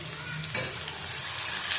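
Onions frying in a pan with whole garam masala, a close steady sizzle with a stirring scrape partway through, growing into a brighter, louder hiss.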